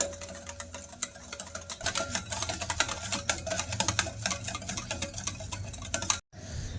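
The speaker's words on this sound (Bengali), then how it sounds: "দিয়ে ভালো করে মিশিয়ে নেব ডিম ডিম চিনি আর সাদা তেলটা" Eggs, sugar and white oil are whisked together for a milk pitha batter, giving a rapid, steady clicking of the whisk against the bowl that cuts off abruptly near the end.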